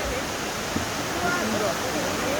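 Bongnae waterfall on Ulleungdo island pours in a steady, loud rushing roar, close and continuous throughout, with faint voices beneath the water noise.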